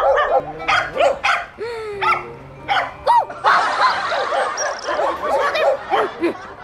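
A dog barks repeatedly in short, loud bursts with yips mixed in, at close range against a quiet background.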